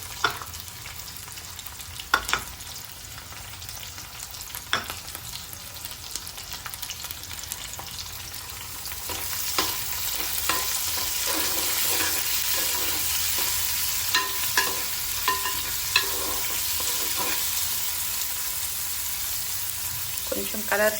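Onions and green chillies fry in a pan for a Telugu gongura dry prawn curry, a steady close sizzle with occasional scraping stir strokes and light clinks.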